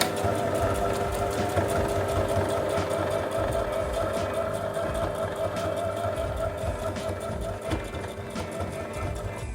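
Sewing machine stitching a bartack to secure a pocket on a bib garment, a steady close mechanical whir running evenly throughout with a few faint clicks on top.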